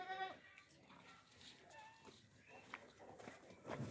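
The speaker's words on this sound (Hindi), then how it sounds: "बहुत ही प्यारा और ज़बरदस्त सा बकरा है, मोटा बकरा।" A plump, heavy native-breed male goat with a dewlap at a livestock sale for sacrifice bleats briefly and fairly close in a noisy market, amid other animal and crowd sounds.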